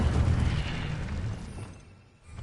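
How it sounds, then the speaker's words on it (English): Incendio fire spell cast in the video game Hogwarts Legacy, a loud rumbling burst of flame with a deep boom that fades over two seconds into a quieter hiss, with no talk. "Incendio."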